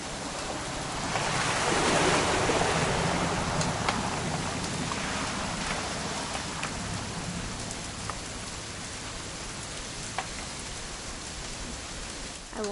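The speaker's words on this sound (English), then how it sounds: "It's gonna rain the whole weekend, isn't it?" Rain falls in the video game What Remains of Edith Finch, a steady broadband hiss of drops with a gust-like swell early on, continuous throughout and without voices.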